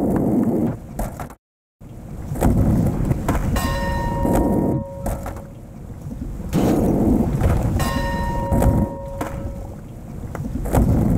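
Skateboard grinding on a ringing buoy bell at a shipyard in Tony Hawk's Pro Skater 4, with rumbling wheel roll over water ambience and two bright clanging bell strikes that hang and fade, loud and close.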